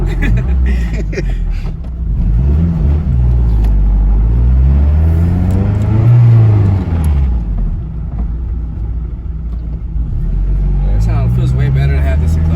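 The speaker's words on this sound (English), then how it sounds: "this exhaust sounds perfect" A Toyota MR2 SW20 with a K24 engine swap revs its engine. The deep exhaust rumble rises and falls in a swell at close range, with someone talking over it.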